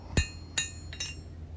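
Three sharp, ringing hammer blows fall on a thin high carbon steel knife blade being forged, spaced about every half second, with the third one softer and a faint low hum between strikes.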